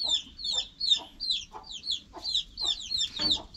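Stray chickens cluck in a quick, repeated series of sharp calls, close and fairly loud, with a steady rhythm over a low background rumble and no talking.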